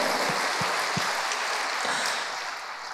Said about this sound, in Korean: 저분에게만 박수.